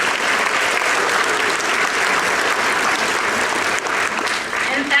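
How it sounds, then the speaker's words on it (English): Steady applause from an audience at an evening charity event fills the whole stretch, dense and loud throughout, with faint background voices mixed in. "so if we can give them a round of applause."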